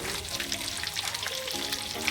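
Soft crackling and sizzling of chicken pieces frying in oil, continuous and fairly quiet, with small pops and a faint background hum.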